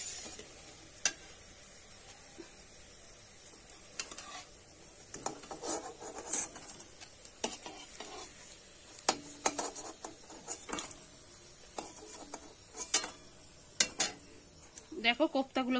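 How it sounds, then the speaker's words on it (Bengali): Pea koftas are fried in hot oil in a kadai and lifted out, giving a steady sizzle with intermittent sharp scrapes and clinks of a ladle against the pan, no talking. "দেখো আমার এই কোপ্তাগুলো কিন্তু ভাজা হয়ে গেছে, এবারে তুলে নেব"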